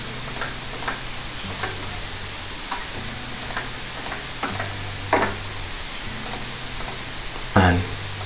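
Computer keyboard typing during a CorelDraw design session: sparse, crisp keystrokes in small irregular clusters over a steady low electronic hum, fairly close and moderately loud.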